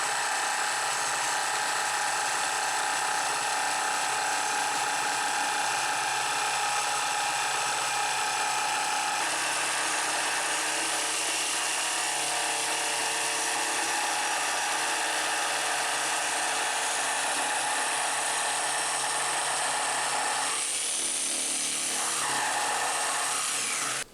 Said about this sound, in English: Once I have it roughed out with the jigsaw